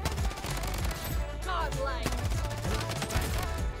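Rapid AUG rifle fire in the shooter game Bloodstrike, continuous close bursts layered with other game effects and a brief rising whistle.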